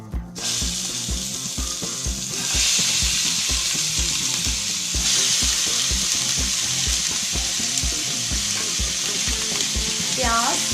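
Chicken pieces dropped into a hot pan for chicken karahi, a loud continuous sizzle with rhythmic scraping and stirring clicks, close and steady throughout.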